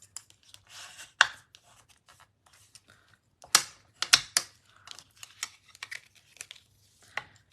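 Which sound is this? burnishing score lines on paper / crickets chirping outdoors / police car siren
burnishing score lines on paper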